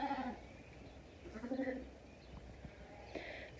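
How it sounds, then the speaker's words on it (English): A young bottle-fed triplet lamb on a sheep farm bleats in a few short, close calls, with quiet barnyard noise and faint movement between the cries. "This is one of our bottle babies, but she is also a triplet out of one of my favorite lines of sheep."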